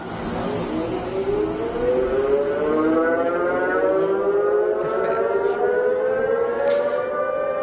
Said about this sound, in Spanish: Les propongo que empecemos con el sonido de una sirena.